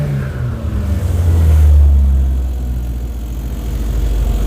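A Skoda 120 16V engine is revved with the throttle pedal, a close low rumble that swells to a peak and then eases back.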